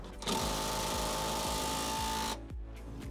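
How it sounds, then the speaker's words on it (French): An impact wrench spins out a Torx shock absorber screw on a Fiat Grande Punto in one continuous buzzing burst of about two seconds, close and loud, ending in a couple of short follow-up hits. "moi je dévisse ça avec une rallonge et ma clé à choc"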